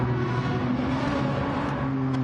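Genesis GT3 race car in Gran Turismo 7, a steady droning engine note held at high revs, close and continuous with a slight pitch shift near the end.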